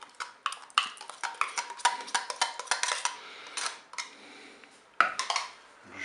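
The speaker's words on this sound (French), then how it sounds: "Je mélange." Utensil stirring beef bourguignon in a Cookeo pot, a string of sharp metallic clinks and scrapes in irregular bursts, close and fairly loud, with short pauses between.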